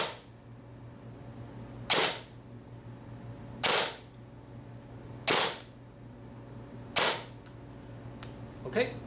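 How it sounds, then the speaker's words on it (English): An airsoft gun with a brushless motor fires two-round bursts on full auto: four sharp, loud bursts evenly spaced about two seconds apart, plus a faint final click, over a low steady hum. "So if I pull the trigger in the full auto, it will send out 2 rounds every time."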